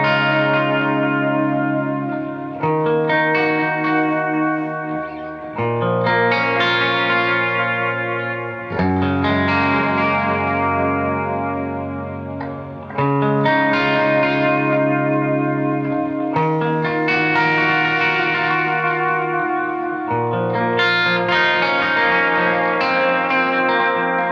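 An electric guitar plays sustained chords through a Clockwork Echo delay pedal, with modulated, wavering repeats trailing behind each note in a thick, reverberant wash, continuous and close with no speech.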